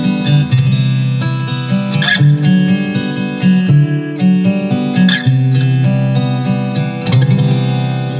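A Taylor 110ce acoustic-electric guitar plays through an amplifier, its bright strummed chords and picked notes ringing loud and full with no voices over the playing.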